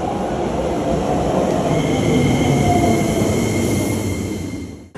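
Japanese local train at a station platform, a loud steady rumble of the train with faint high squealing tones, fading out at the end, no voices.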